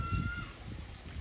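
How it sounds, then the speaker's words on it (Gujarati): A parrot perched in the breeze gives a short series of high, rapid chirps over steady low background rumble, moderately close. "આ બાજુ તો પોપટ છે ને અહીંયા બેઠો પવન ખાય છે"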